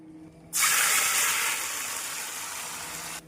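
Boiled pumpkin dropped into hot ghee for pumpkin halwa, bursting into a loud, sudden sizzling hiss that holds steady and close before easing slightly and cutting off.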